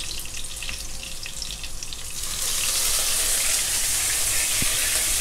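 Fish maw stir-frying in a wok right after a splash of Chinese cooking wine, a steady loud sizzle that swells into a bright, hissing roar partway through, with a faint clink of stirring.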